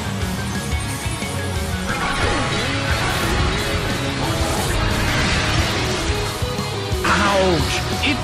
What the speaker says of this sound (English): A smashing blow.